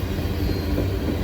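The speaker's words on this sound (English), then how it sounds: "Good assortment of locomotives on this train." A freight train hauled by five locomotives including a slug engine rolls past in a steady, loud rumble and roar with no break, close to the listener.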